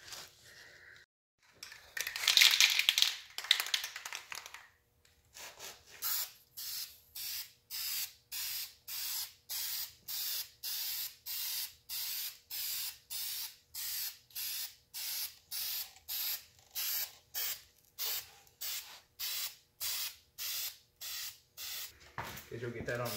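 A spray can lays primer onto a Ford 5.0 oil pan in a long series of short, evenly spaced hissing bursts, close and clear, after a brief opening spray and a moment of quiet.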